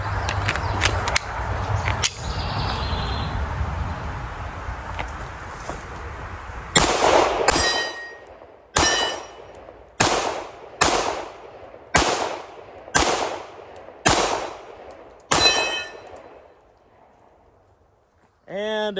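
A Shadow Systems CR920P pistol fires S&B 115-grain target ammunition, about nine or ten sharp, loud shots in steady succession, each with a short ringing tail, after a stretch of talking and handling noise.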